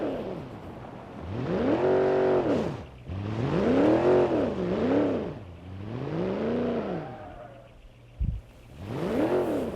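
A race car in the BeamNG driving game after a road course race, its engine rising and falling through repeated revs and gear changes, fairly steady and moderately loud, with one short thump near the end.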